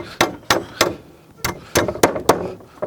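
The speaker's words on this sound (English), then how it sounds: "start by hammering these" A Stiletto titanium hammer drives nails into a wooden sill plate with a quick, uneven run of about eight close, crisp strikes, some doubled, each a sharp woody knock.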